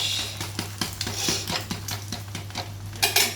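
An omelette being turned in a pan with a spatula, a series of light metallic clinks and scrapes in an uneven rhythm over a steady low hum, the last few taps a bit louder.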